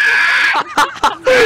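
A person lets out a high, shrill screeching cry in short bursts, one voice imitating a creature's screech up close.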